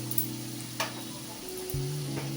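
Ginger-powder and jaggery gujiya frying a few at a time in hot oil: a soft, steady sizzle with a few sharp pops, over a low, constant hum.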